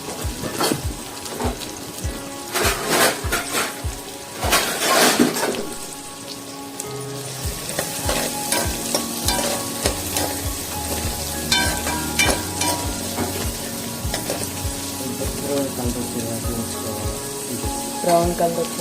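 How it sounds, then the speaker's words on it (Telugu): Onions fry in a pan for masala vada curry, a continuous crackling sizzle with frequent sharp clatters and scrapes of a spoon against the pan, and faint background tones. "చూడండి, ఆనియన్స్ అయితే వేగిపోతున్నాయి."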